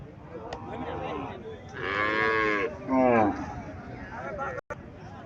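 A desi cow moos twice in a livestock market, long drawn-out lowing calls close by, with a murmur of people and faint background noise around them.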